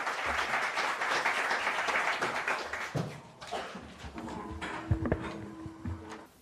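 Warm applause at a party event greets the party leader, dense and steady for about three seconds before thinning into scattered claps and room noise.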